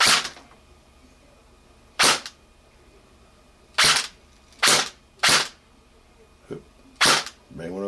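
A G&G AK-47 airsoft gun with a home-built MOSFET on an 11-volt LiPo fires single sharp cracks, six or seven spaced shots at irregular intervals, close and loud against a quiet room.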